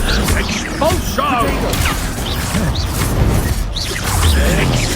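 An Expulso blast spell goes off during a Hogwarts Legacy combat fight, crashing and thwacking among other spell effects, with voices and creature cries close over a busy, loud game mix.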